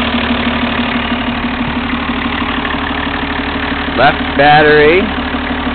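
A 1991 Toyota Land Cruiser diesel engine idles with a steady low rumble throughout, and someone speaks briefly near the end over the engine.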